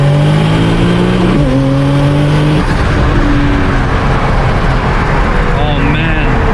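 A 1300 bhp Nissan R35 GT-R running E85 makes a full-throttle pull from second gear, its engine roaring loud and close as pitch climbs, shifts, and rushes on amid turbo whoosh and heavy cabin noise.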